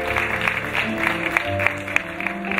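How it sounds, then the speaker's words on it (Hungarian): Audience applause at a 2019 end-of-season dance recital for a small children's group, steady dense clapping over a musical backdrop with a few sharper claps standing out, continuing for the whole stretch. "Tapsot kérek."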